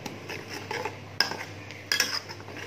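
Squid cooking in a pan is stirred with a metal utensil, producing a couple of sharp clinks and scrapes against the pan over a quiet background, with no voices.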